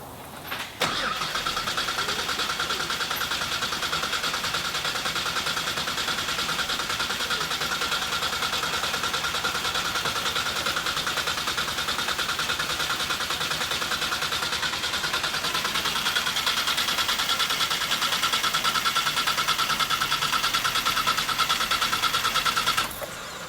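A drag-racing car engine cranks over steadily to build oil pressure, a loud continuous mechanical whir with a faint buzzing tone, sustained for over twenty seconds before cutting off abruptly.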